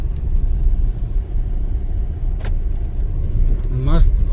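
A Tata Nexon car drives along a rough, broken road, giving a steady low rumble of engine and tyre noise throughout, with a brief rattle partway through and a short rising tone near the end.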